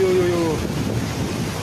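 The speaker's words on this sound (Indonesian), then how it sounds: "Ombak naik lagi, ombak naik lagi, ombak naik lagi." Large, rough ocean waves surge onto a beach in Bali, a low rumbling wash heavily buffeted by wind on the microphone, with a brief tonal sound near the start.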